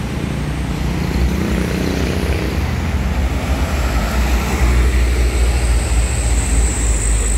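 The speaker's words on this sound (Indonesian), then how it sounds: "Ada bus medium, kita lihat." A medium-size tour bus passes along a city street beside a bus terminal ticket counter, a steady loud engine rumble and road roar lasting throughout, close by with continuous traffic noise and no talk.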